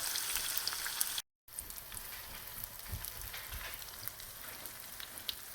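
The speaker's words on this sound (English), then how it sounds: "add the onions in and just start frying them up until they get a beautiful golden color" Steady soft sizzling and crackling of onions frying in a pan, with a brief dropout near the start, faint and continuous throughout.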